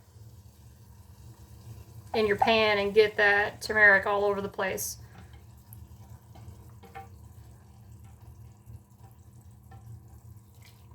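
While prawn and courgette soup with egg noodles is being made, water is poured into a bowl with a soft, steady trickle that continues after a voice speaks briefly near the start.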